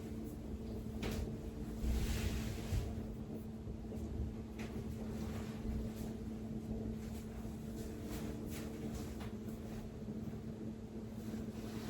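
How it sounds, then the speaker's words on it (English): Vegetables sizzle and crackle in a hot stir-fry pan with a low, steady hiss and occasional louder spits, over a constant background hum. "That sizzling."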